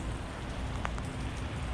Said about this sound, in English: it is pouring rain and the valley is covered in clouds